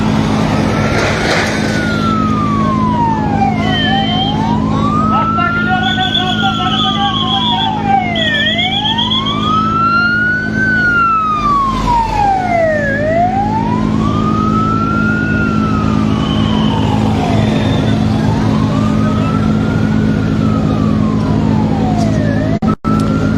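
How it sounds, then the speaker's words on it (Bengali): Fire engine sirens wail loudly and continuously as fire service units arrive at a fire at Hazrat Shahjalal International Airport, rising and falling in repeated sweeping cycles over a low vehicle rumble. "আরও একটি ইউনিটকে আমরা আসতে দেখেছি ফায়ার সার্ভিসের"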